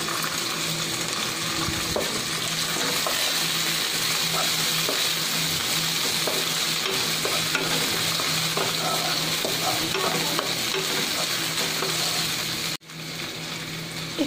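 Raisins and chopped pistachios frying in a spoonful of ghee for Eid lachha semai, a loud close continuous sizzle with light stirring scrapes, cutting off sharply near the end before resuming softly.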